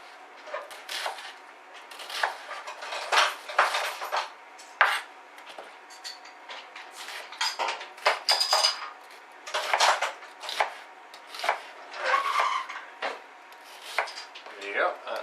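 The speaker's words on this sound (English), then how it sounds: "Let's chop it." An onion being chopped quickly with a knife on a board, producing a rapid, irregular run of close, crisp knife strikes and scraping taps, with no talk over them.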